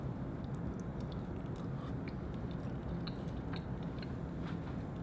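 Chewing and biting on cooked chicken feet topped with cilantro, a steady close-up run of wet, sticky mouth noises and soft crunches with no talking.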